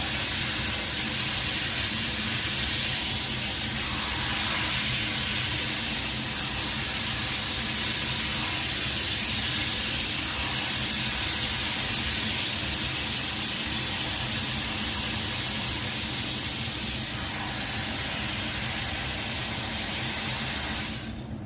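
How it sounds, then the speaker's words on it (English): Continuous, steady hiss of a keg foam sprayer spraying soap foam, loud and unbroken for about twenty seconds before cutting off at the end. "you can play with both valves if you want thicker foam, watery foam"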